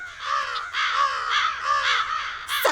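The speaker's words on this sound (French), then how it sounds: "Il y a des corbeaux partout." Crows cawing over a field in a Thomas & Friends cartoon, a run of harsh repeated caws in quick succession, loud and close, ending with a brief sharp higher squawk.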